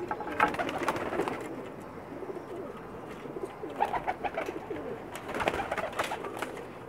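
Several Pakistani champion pigeons coo repeatedly on a rooftop in soft, low bubbling calls, close by and overlapping, with light fluttering and background rustle.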